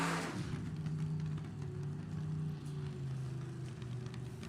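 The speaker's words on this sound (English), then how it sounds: "Ken Bates dragster start on methanol, and then they switch it over to the Cackling Nitro" A nostalgia nitro dragster, started on methanol before switching to nitro, revs its engine at a drag strip. A loud, rough, steady rumble with a burst at the start holds through the clip, fairly close and without talk.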